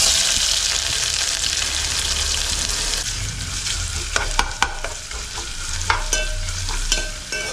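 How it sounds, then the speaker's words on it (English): Onions and mustard seeds sizzle and fry steadily in hot oil, a close, continuous crackle with scattered sharp pops from the seeds and the occasional scrape of a stirring spoon. "Once the oil is hot, put some mustard seeds. Then comes onions."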